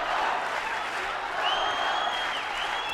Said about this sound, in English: And now the crowd trying to get behind their champion.